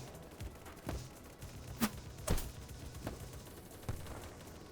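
Sparse gunshots in the online shooter BattleBit Remastered, heard as a few sharp separate cracks spread over several seconds, some nearer and louder, over a quiet background with no talk.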